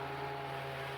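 A plate compactor engine with its throttle cable-tied wide open drones steadily at full revs, a constant close mechanical hum with no talk.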